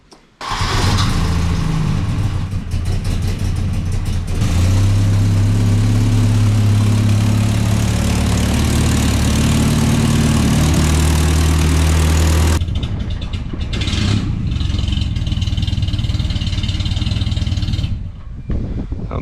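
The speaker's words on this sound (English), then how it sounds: "Sounds pretty lumpy. Sounds like it's got a little more oomph at idle." A non-turbo Volvo engine with a shaved cylinder head starts and settles into a loud, lumpy idle, running steadily close up before cutting out, then catching again with some quiet talk nearby.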